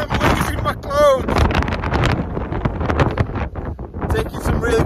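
Strong wind buffets the microphone on a windy hilltop, rumbling loudly and continuously beneath someone talking close to the camera.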